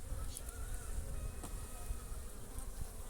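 Honeybees drone in a dense, continuous buzz during a hive inspection, loud and close, with occasional louder individual bees passing near.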